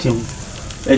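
A short burst of sizzling as garlic paste hits hot oil for tempering, crackling briefly at the start and flaring again near the end.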